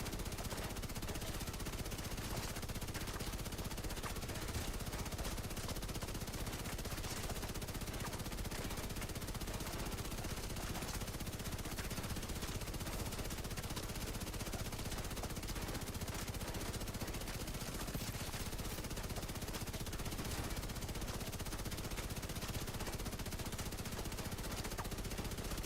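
Dense, continuous gunfire from The Division 2 video game, with rapid overlapping shots forming a steady loud crackle that never lets up and no voices on top.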